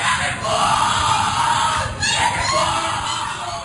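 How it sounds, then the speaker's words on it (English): Screaming and chanting from a crowd at the Skull and Bones initiation ceremony at Yale, loud and continuous with overlapping raised voices and a brief dip midway. "What you're hearing is the first recording ever made of the Skull and Bones initiation ceremony."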